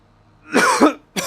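A person coughs and clears their throat nearby in a harsh burst that lasts under half a second, then starts a second short cough right after a brief pause.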